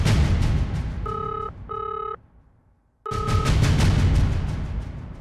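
A telephone call rings out in a few short, bright tone bursts that sit over a dense, loud background of music and noise, with a brief quiet gap before the background returns.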